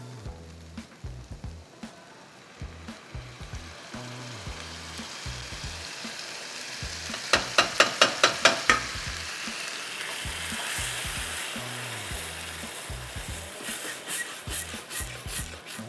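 A ground mixture of four or five tomatoes fries in a pan while a sweet potato paneer kofta dish is cooked. A steady, close sizzle carries on with bursts of stirring, under a soft rhythmic beat in the background.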